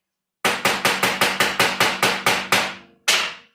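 Hammer blows on a Torx bit set into a stuck bolt, about ten sharp, evenly spaced strikes in quick succession, a short pause, then one final hit, close and loud with no talking.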